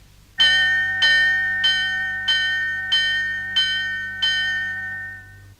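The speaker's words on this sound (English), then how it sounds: "Now, speeded up, this gives a realistic chiming clock." A chiming clock effect, produced by speeding up a tape recording, rings seven evenly spaced bell strikes about two-thirds of a second apart. Each strike is bright and ringing with a long decaying tone, clear and alone.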